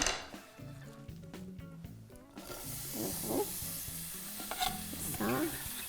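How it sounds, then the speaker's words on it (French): Onion and garlic sizzle loudly in a hot pan for a chickpea dish, with a steady frying hiss and the repeated scrape and rustle of stirring strokes throughout. "On va mettre l'oignon et l'ail d'abord."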